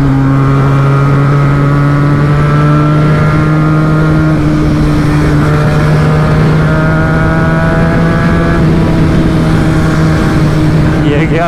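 Several motorcycles over 300cc ride hard along a highway in a Sunday group chase, their engines a loud, unbroken drone that shifts pitch as the riders work the throttle.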